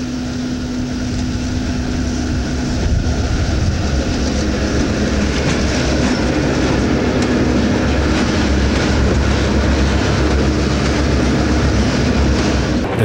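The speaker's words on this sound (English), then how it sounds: "Goes a westbound freight passing through the station." A westbound Erie Lackawanna freight train rolls through a station, a continuous loud rumble of wheels and cars with rhythmic clatter that builds and holds steady for the whole stretch.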